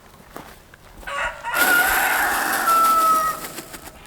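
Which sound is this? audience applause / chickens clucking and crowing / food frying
chickens clucking and crowing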